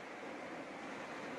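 Sea waves wash into a cove beneath cliffs in Dhofar, a steady broad roar of surf that stays even and unbroken throughout, with a windy hiss and no voices.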